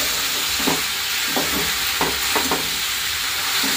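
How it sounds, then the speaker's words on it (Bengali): Noodles with Maggi masala are stirred in a hot pan, giving a continuous sizzle with repeated scraping strokes of a spoon at an uneven rhythm, close and fairly loud. "আর এইভাবে নাড়াচাড়া করে নেব এখন একটু ভালো করে।"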